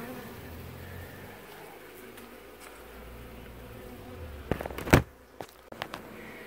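Honeybees swarm and buzz around a new hive during a honeybee removal in Lakeland, a steady, soft outdoor hum with a few louder close passes and handling knocks toward the end.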